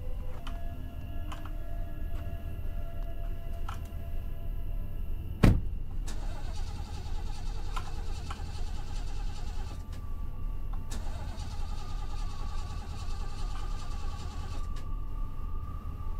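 In the horror game Fears to Fathom: Norwood Hitchhike, a car engine repeatedly fails to start, its attempts set against a steady low rumble, with one sharp click partway through and a few faint high chirps.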